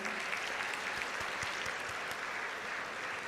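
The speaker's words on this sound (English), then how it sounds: "Another round of applause." A crowd at a university convocation applauds steadily, a dense even wash of clapping that holds at a moderate level from start to finish, with no voices over it.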